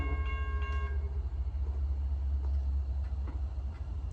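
A CSX L234 freight train rolls through a neighborhood crossing between Greenville, North Carolina and Chocowinity, with a loud, steady low rumble of wagons throughout and brief horn tones near the start.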